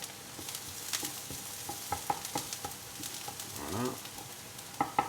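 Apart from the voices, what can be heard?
ground beef searing in a hot frying pan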